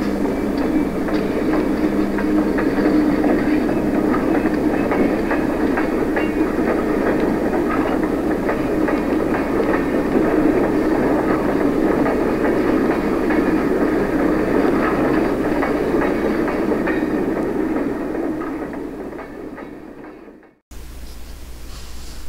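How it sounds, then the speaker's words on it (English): Bachmann and Athearn model train locomotives running together at slow speed on a DC layout, a steady close whirring motor hum with faint track clicking that fades out near the end, no voices. "Two units work very nicely and run smoothly at slow speeds and going through the maze of switches leading to my main line."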